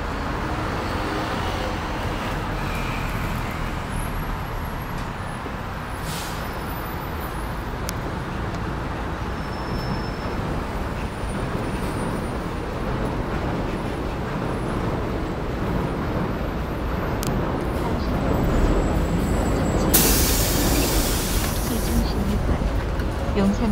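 A city bus pulls up to a stop near Namyeong Station amid a constant roar of street traffic, which swells louder toward the end. A recorded voice announces the arriving routes.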